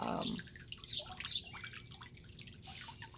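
Water from a recirculating wash tub fountain on a front porch trickles and drips softly and steadily, faint and close, with no voices.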